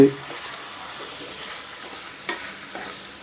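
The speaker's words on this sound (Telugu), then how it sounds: "ఇప్పుడు వీటన్నిటిని ఒకసారి బాగా కలిపేసి" Cucumber and drumstick curry with green chilies is stirred in a hot pan, giving a continuous soft sizzle with a few light scrapes of the spoon, close and steady, with no talk.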